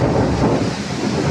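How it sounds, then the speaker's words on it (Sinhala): Thunder rumbles during a village rainstorm, a loud continuous low roar with rain noise mixed in and no speech. "ඕ අකුණු ගහනවා."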